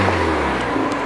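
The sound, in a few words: Mazda MX-5 engine revving through new dual exit exhaust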